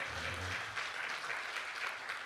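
Audience applause at a poetry gathering, a mushaira and kavi sammelan in Bahrain, dense steady clapping from a large crowd filling the whole short moment.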